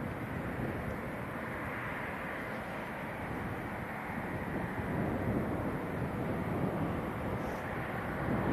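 A fixed-wing airliner approaches Leeds Bradford airport a couple of miles out over Otley, heard as a steady, distant engine roar mixed with wind rumble that holds throughout, with no voices.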